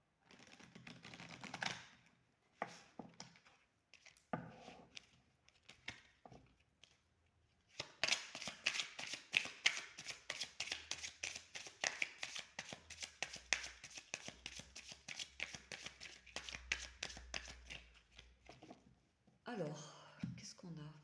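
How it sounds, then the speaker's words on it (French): Oracle cards are shuffled up close in a dense, continuous run of soft crisp riffling and flicking, preceded by quieter scattered handling and a faint voice. "On va tirer une carte de cet oracle, l'oracle Nanka."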